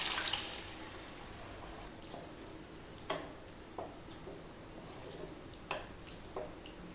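Boiled chickpeas sizzling in a pan of oily tomato masala for chana masala gravy, a steady hiss broken by a few soft scraping knocks, close and with no voices.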